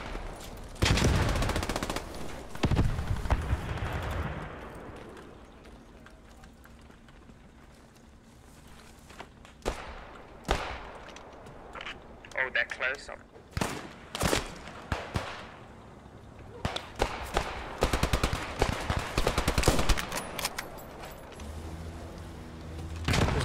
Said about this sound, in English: Enemy Browning on the west side of the point.